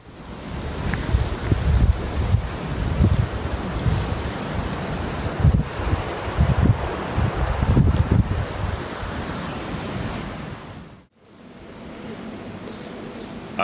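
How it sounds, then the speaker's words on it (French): Roaring, continuous wind-driven rush of a waterfall, broadband and loud, sustained for about eleven seconds before cutting to a quieter scene with a high steady insect-like tone. "La puissance du vent fait monter en flèche le débit de cette cascade"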